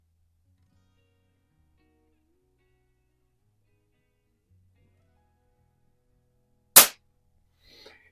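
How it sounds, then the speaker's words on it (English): A single sharp, close crack from a Baikal IZH-46M single-shot air target pistol fired one-handed at 7 yards, standing out against near silence, followed by a faint brief rustle. "I am shooting this at 7 yards, one-handed."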